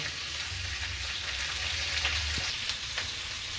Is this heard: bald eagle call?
no